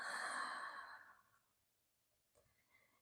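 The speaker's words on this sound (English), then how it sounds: "and full exhale." A long, breathy exhale during a yoga session, loud at the start and trailing off over about a second and a half, followed by a quiet pause and then a few faint rustles and small vocal sounds.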